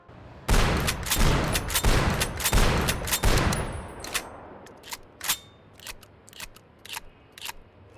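Modded Half-Life 2 shotgun in a video game firing a rapid burst of loud, sharp blasts over the first few seconds, followed by scattered lighter clicks and mechanical clacks, with no talking.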